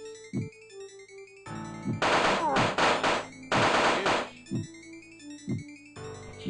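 Gunfire in the video game 1213, loud bursts of rapid shots in two sustained volleys over electronic game music, with brief single shots between them.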